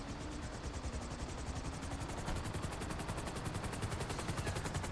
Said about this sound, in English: Cause I ain't gonna try to land a helicopter in there.